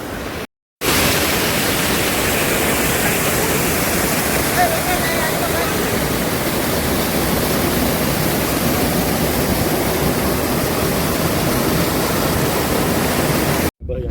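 Steady, continuous rushing of a small waterfall at Mogal Dham, Bhaguda, full and close, after a brief silent gap at the start, with no pauses in the flow.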